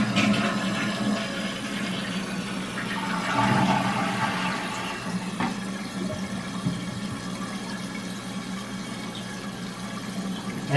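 A toilet flushes after its flush valve has been replaced, producing a loud, steady rushing of water draining and refilling the tank, heard close up without any speech.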